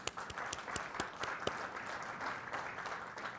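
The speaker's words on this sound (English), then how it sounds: "Let's give them a round of applause." Audience applause at a welcome session of a recovery empowerment symposium, steady mid-level clapping from a seated crowd with a few sharper individual claps standing out, no voices over it.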